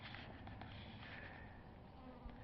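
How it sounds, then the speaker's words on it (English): Honey bees buzz steadily and densely around an open hive during an inspection, a constant close swarm drone with no breaks. "Look at all them bees."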